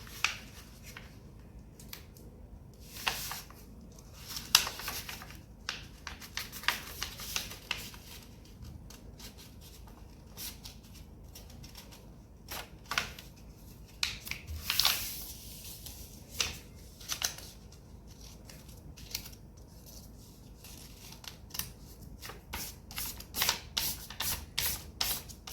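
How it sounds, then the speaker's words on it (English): Paper being folded for an origami gift box: soft crisp creasing and rubbing strokes come in irregular bursts, quiet and close, with a few sharper rustles and no talking. "fold the paper diagonally like so. Unfold the paper and fold it diagonally the other way."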